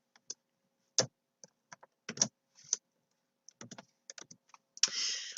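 Keys on a computer keyboard clatter in irregular bursts as HTML is typed, close and crisp with pauses between clusters, ending in a rapid run of strokes.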